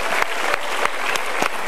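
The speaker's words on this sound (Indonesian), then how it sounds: "kita berikan tepuk tangan" Studio audience clapping together in a steady, dense burst of applause at a Mario Teguh Golden Ways talk show, fairly close and continuous with a few sharper claps standing out.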